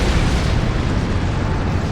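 Detonating charges in the space game Star Trek Online create a loud, sustained, rumbling explosive roar that stays steady throughout without distinct separate blasts.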